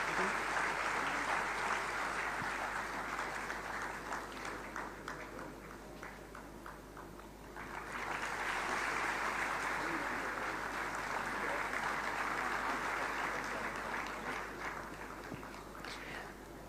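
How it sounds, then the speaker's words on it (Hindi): An audience at an institute's foundation day award ceremony in Lucknow claps steadily for an award recipient, with sustained applause that dips briefly midway, then swells again and continues at length. "कृपया तालियों से स्वागत करें"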